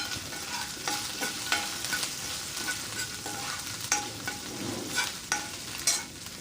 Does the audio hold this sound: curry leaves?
yes